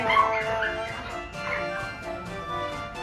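Large dogs at a dog daycare give a busy mix of barks, yips and whimpers over about three seconds, steady and moderately close, with some faint voices in the background.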